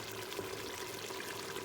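Oil is poured into a pot of degi-style beef korma, a steady soft liquid hiss and sizzle with a constant wash of noise, fairly faint and without speech.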